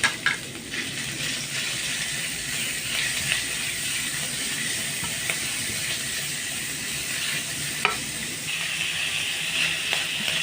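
Minced beef sizzles and fries in a hot pan, a steady loud hiss and crackle that keeps going throughout, with faint scrapes of stirring and no talk.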